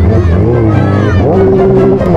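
A Yamaha R6 sport motorcycle engine revs loudly and close on a busy morning market street, the pitch climbing and then holding a high steady whine while people talk over it.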